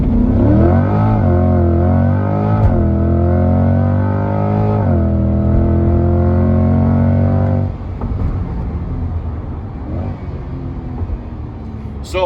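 A Chevrolet C8 Corvette launches hard on launch control in cold weather, its engine roaring loudly and rising through gears with brief shift dips, then dropping to a rougher, quieter drone as the car pulls away.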